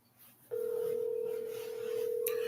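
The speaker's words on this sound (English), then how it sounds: "Let me call Black real quick" A steady single-pitch telephone dial tone sounds loud and continuous after a brief quiet start, as a phone call is placed on a live stream, with a short higher chirp near the end.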